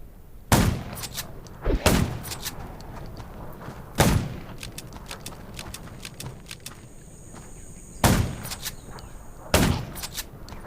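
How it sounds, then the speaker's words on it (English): Gunshots ring out in the zombie survival game Undawn, five sharp loud cracks spaced a few seconds apart over a low steady background, with no speech. "Gunshots will attract more."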